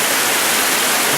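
Small waterfalls of an underground river inside Harrison's Cave, Barbados, make a loud, steady broadband rush of falling water that fills the space without a break.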